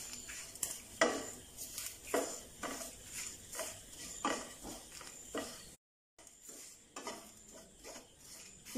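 Spoon stirring grated coconut as it browns in a pan for an Onam koottucurry, giving repeated scraping strokes against the metal at a steady rhythm, close and alone with no talk.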